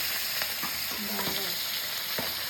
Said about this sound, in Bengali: এবার কিন্তু মাছ ভাজাভাজি শুরু হয়ে গেল